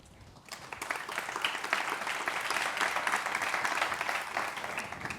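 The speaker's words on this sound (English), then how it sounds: "A round of applause for all." Conference attendees at a semiconductor talent forum in Valencia break into applause that swells quickly after a brief quiet start and continues as a dense, even clatter of many hands.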